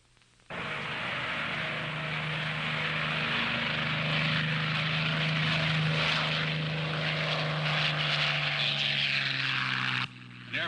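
A propeller airplane engine drones loud and steady for about ten seconds, a continuous buzzing roar with a low throbbing hum that starts abruptly and cuts off near the end.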